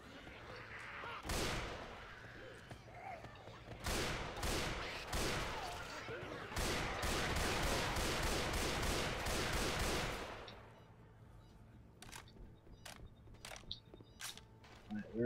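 Rapid gunfire in the zombie shooter Left 4 Dead 2, dense bursts and repeated single shots for about ten seconds, then sparser isolated shots against quieter background.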